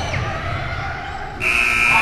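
A loud electronic buzzer sounds at the end of regulation in a basketball game, a steady tone cutting in over crowd noise near the end of the clip.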